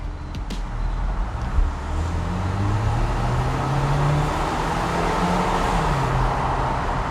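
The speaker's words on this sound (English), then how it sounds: "I'm going to make you hear the revs." Range Rover Velar engine revved in sport mode from inside the cabin, a muffled low drone climbing and easing in pitch several times beneath a steady, even wash of road and cabin noise.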